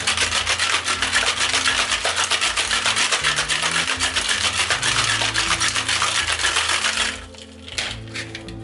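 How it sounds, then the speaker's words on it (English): Ice cubes are shaken hard in a metal cocktail tin for a gin fizz, a loud, fast, steady rattle heard up close that stops abruptly near the end, followed by a few light clinks. "And rock those stones for about 10 to 15 seconds."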